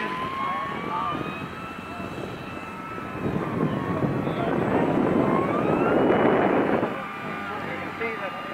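A small engine whines steadily as a radio-controlled model airplane flies nearby on a windy day, its pitch shifting as it passes and swelling louder before easing off. Voices talk underneath.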